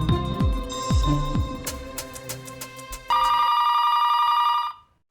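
An old-style telephone bell rings in clear trilling bursts over some background music, then gives one sustained loud ring before abruptly cutting to silence.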